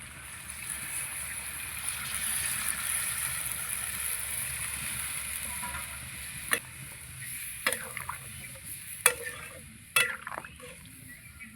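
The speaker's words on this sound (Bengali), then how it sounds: "এই গরম জলটাই দিয়ে দেবো।" Hot water poured into mutton curry frying in a wok, giving a steady sizzling hiss that holds for several seconds before a few sharp clatters break through near the end.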